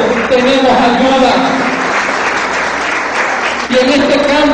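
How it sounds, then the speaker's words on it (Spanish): Congregation applauding in a church service, a dense steady wash of clapping throughout, loud and close, with a voice speaking or singing over it at the start and end. "Den un fuerte aplauso al Señor."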